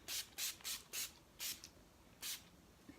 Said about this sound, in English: I'm gonna finish my look with my favorite finishing spray from NYX